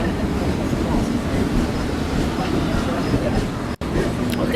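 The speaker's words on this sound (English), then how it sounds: "Bye-bye, train." An empty train rolls past in a steady, loud rumble that holds for several seconds, with a voice faintly audible over the noise.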